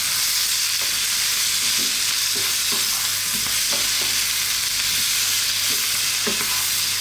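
A spoon stirs turmeric, chili and coriander through a sizzling curry pan for a potato eggplant curry, with a constant loud frying hiss and soft scraping strokes every second or so, close by with no talk.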